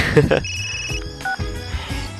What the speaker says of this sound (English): suddenly my ringtone echoes out in this empty place